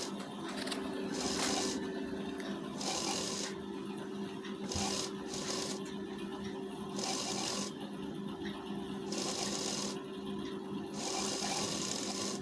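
A sewing machine runs a doubled seam joining sleeve and body pieces of a lined blouse, close and steady, in repeated bursts of rapid stitching separated by short pauses.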